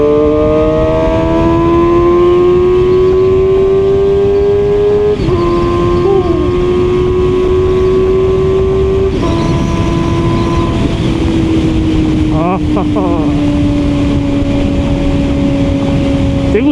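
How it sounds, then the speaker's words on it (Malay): A QJMotor SRK450RR motorcycle fitted with a Burnout valve exhaust runs with the valve open, giving a loud, steady engine drone that climbs and dips as revs shift through gears, with a few brief breaks in pitch. "exhaust daripada Burnout, exhaust yang ada valve tu"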